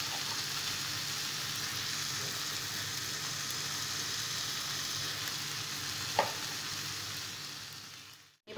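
Chopped tomato and salt sauté with spices in a pan for paneer bhurji, sending up a loud, continuous sizzle close by, broken by one sharp spatula knock before the frying cuts off abruptly at the end.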